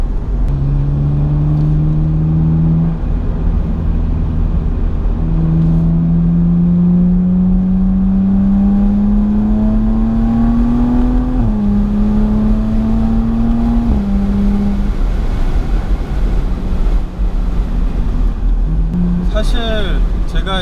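An open-top convertible car cruises along a road on Jeju, its engine droning steadily close by with rising and falling tones as it shifts gears. A voice talks over the motor and wind.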